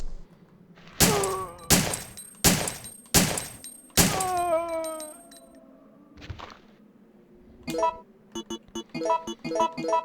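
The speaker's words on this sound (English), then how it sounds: "It's so much better, so much brighter to use a shotgun." Shotgun blasts in the survival horror video game Resident Evil 3: Nemesis, five loud, evenly spaced booming shots with ringing tails, followed by a quieter clatter of rapid mechanical clicks and knocks.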